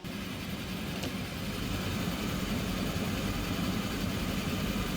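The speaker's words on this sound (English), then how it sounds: "The engine's spooling up" Right engine of a DHC-6 Twin Otter spooling up in Microsoft Flight Simulator, a steady close turbine roar with low rumble and broadband hiss, a brief click near the start, no voices.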